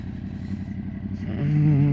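A motorcycle rides along a bumpy park path with a steady engine rumble up close, then its pitch and loudness rise into a smoother drone as it accelerates.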